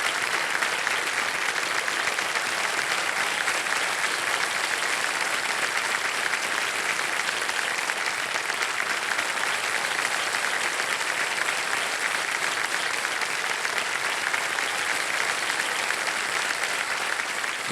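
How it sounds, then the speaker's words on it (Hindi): Steady, dense applause from the studio audience of the TV quiz show Kaun Banega Crorepati, a constant wash of clapping at even loudness throughout, with no voices over it. "बहुत बहुत तालियों के साथ आपका हम स्वागत करते हैं।"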